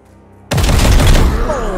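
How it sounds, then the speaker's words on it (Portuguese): Sudden burst of rapid gunfire in the Warhammer 40k tactics game Chaos Gate - Daemonhunters, a loud booming fusillade that erupts after near silence and rumbles on with a brief whining tone near the end. "Vou dar uns tiros nesse maluco aqui"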